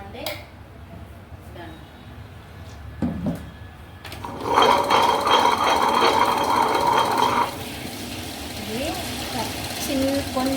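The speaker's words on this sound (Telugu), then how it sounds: "ఇప్పుడు గ్రైండర్ వేసేసుకుందాం" A motorized wet grinder whirs and clatters loudly for a few seconds, then drops away. Scattered clinks and a speaking voice come before and after.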